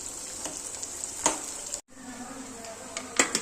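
Bitter gourd pieces frying in oil in a pan give a soft, steady sizzle with a few light utensil clinks and stirring scrapes, quiet and close.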